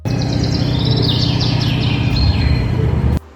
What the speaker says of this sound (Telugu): అది కూడా చాలా పీస్ఫుల్గా బర్డ్స్ సౌండ్స్తోనే